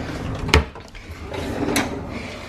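A kitchen drawer slides open with a couple of clunks and wooden rattles, near and moderately loud, with no one talking.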